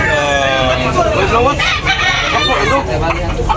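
Several fighting cock roosters crow loudly and close by, their overlapping cock-a-doodle-doo calls and clucks filling the whole stretch with dense, continuous sound, while voices are faintly audible underneath.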